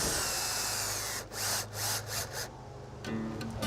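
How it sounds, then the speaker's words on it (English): Power drill driving a screw into wood, a steady whine running under faint noise, then several short pulsed bursts as the screw is snugged tight. "I'm going to put a screw right here. I'm going to get it started."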